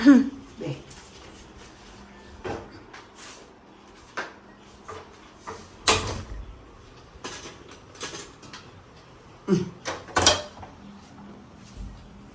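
A 6-litre PG pressure cooker of rice is handled and set onto the stove, with scattered metallic clanks and knocks spaced a second or two apart over a quiet kitchen background.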